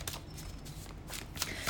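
A deck of tarot cards is shuffled close by, with soft, quick riffling and papery flicks in short bursts over a quiet background.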